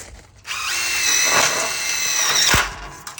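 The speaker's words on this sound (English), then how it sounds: "I put the screws in on the back side first, install on the front." A power drill whines loudly for about two seconds as it drives a screw into a panel, starting abruptly, holding a steady high pitch, then cutting off with a short mechanical clunk.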